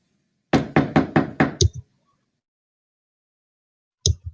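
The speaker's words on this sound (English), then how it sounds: "knock" Knocking on a wooden door during a Warhammer 40,000 Dark Heresy tabletop session: a quick burst of five loud, evenly spaced raps with a lighter tap, then silence and a short double knock near the end.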